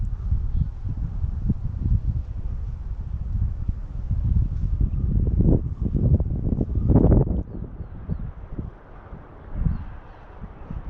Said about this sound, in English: it's pretty windy. It's windier than I was expecting it to be.